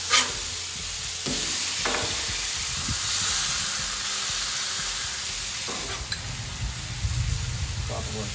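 Prime NY strip steak sears on a Blackstone griddle, giving a steady close sizzle with occasional stirring and scraping scrapes; brief voices come through now and then.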